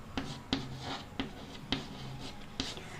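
Pen or pencil writing on paper at close range, with a few short strokes and taps in an uneven rhythm, quiet and with no talking.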